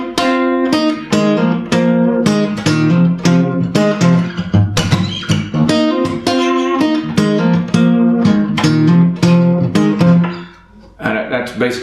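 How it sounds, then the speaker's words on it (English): A guitar riff played through an Octavia octave-fuzz pedal, with repeated punchy, rhythmic strummed chords and steady loud harmonics, continuous for about ten seconds before a brief dip and a final hit. "this one has a funny riff with the Octavia pedal"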